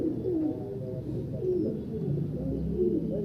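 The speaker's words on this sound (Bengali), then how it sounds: "কালা জগের কালাঙ্গা পায়রা" Kalanga pigeons, an Indian fancy breed, coo steadily and continuously at close range, a layered, throaty warble with no talking.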